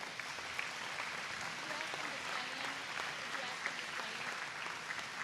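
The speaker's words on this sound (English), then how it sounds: "Let's give them a round of applause." Steady, fairly faint applause from an audience at a school STEAM certification ceremony honoring staff, a continuous wash of clapping with some voices mixed in.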